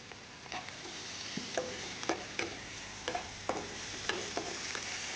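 Onion, tomato and green chili sauté in oil for a capsicum biryani, a soft steady sizzle with a spatula tapping and scraping the pan every half second or so.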